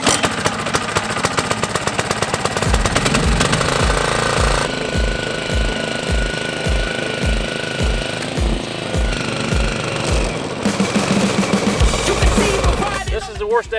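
A lawn mower with its blade engaged runs loudly and steadily while cutting a small front yard patch, its engine churning with a rhythmic pulsing throb through the middle stretch and a harsher rattle toward the end.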